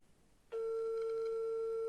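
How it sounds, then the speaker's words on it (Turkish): A steady electronic ringback tone from a call placed to a SIM900 GSM module with a SIM card, controlled by a PIC16F877A keypad phone project. After a brief quiet start, it sounds continuously, clear and close, with no talking. "Şimdi arkadaşlar kendi dokunmatik telefonumla arama yapıyorum."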